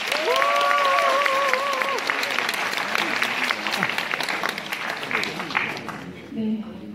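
Audience applause at a lecture event in Jangseong, South Korea, steady and full for about six seconds, with a voice and tonal sounds over the start before the clapping thins out near the end.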